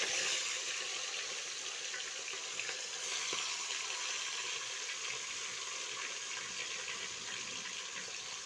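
Fish sizzling in hot oil in a kitchen pan, a dense, continuous hiss and crackle that stays loud and steady from start to finish, with no talking.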